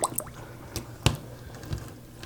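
A drain cleaning tool twists inside a clogged sink drain, giving a few wet squishing clicks and drips spaced irregularly, close and fairly quiet with no voices.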